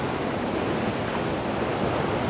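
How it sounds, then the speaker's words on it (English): Massive ocean waves crash onto the shore at sunrise in a loud, continuous roar of surf with wind noise on the microphone, no voices present. "I'm backing up before I get hit by these massive waves"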